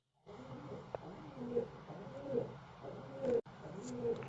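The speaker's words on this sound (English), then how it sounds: "I'm gonna have to do something about this bird, driving me nuts" A pigeon or dove coos repeatedly outdoors, a steady series of soft, low calls at moderate distance, heard from indoors during a chess game.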